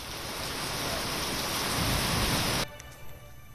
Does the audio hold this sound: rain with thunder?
yes